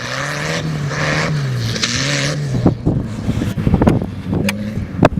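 A modified tractor's loud, rumbling engine drones steadily and then revs unevenly, with sputtering bursts and pops toward the end, close to the microphone.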